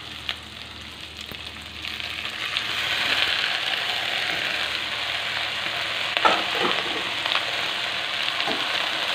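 Steady hiss and crackle of raw jute leaves and pork frying in a pan, with occasional scraping stirs rising above the sizzle.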